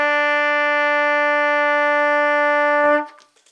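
A single sustained trumpet note, E fingered with the first and second valves, held steady and clear for nearly three seconds before cutting off abruptly, with no voices.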